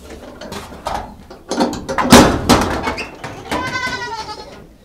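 Several goats bleat inside a goat shed, with repeated calls growing louder toward the middle and a final drawn-out quavering bleat, alongside some clattering and rattling.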